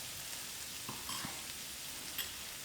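Moong dal fries in masala, giving a continuous soft sizzle and crackle with a few faint stirring taps, steady and moderately quiet with no voices.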